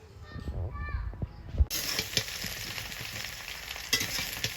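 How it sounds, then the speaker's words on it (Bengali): Bay leaves and dried red chillies tempering in hot oil for a vegetarian taro-stem dish, a steady close sizzle that jumps louder partway through, with faint clinks beneath. "এবার আমি তেজপাতা আর শুকনো লঙ্কা ফোড়নে দিয়ে দিয়েছি।"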